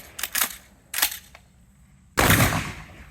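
A Remington 11-87 police trade-in short-barreled shotgun fires Winchester Universal 7.5 shot shells, a few sharp bursts early and one louder, longer blast near the end, all close by with no talk.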